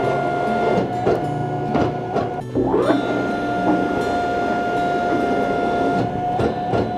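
Sawmill clamps grip a Tasmanian blackwood log: a steady machine hum with a short rising hydraulic whine partway through, plus scattered clunks and knocks nearby.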